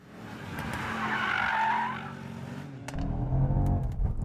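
A Mercedes-AMG E63 S Wagon slides in drift mode on an autocross course, its tires squealing loudly over a rising and falling engine roar, then settling into a deeper rumble.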